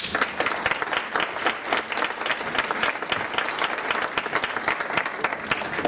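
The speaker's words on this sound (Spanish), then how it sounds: "para quien le pido un fuerte aplauso" A lecture audience at a conference on twenty years of the right to information claps loudly and steadily, a dense, sustained burst of applause filling the room with no voices over it.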